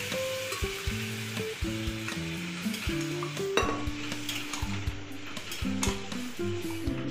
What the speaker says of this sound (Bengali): এবার সেদ্ধ করা চানাটাকে দিয়ে দেব।